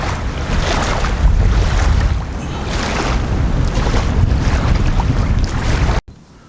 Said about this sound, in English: Listen to that. Listen to that wind. It is windy.